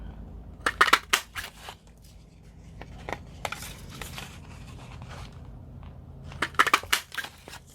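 Scissors snip through paper in short, crisp bursts while a scrapbook layout frame is cut, with quiet pauses and soft handling rustle between the clusters of cuts.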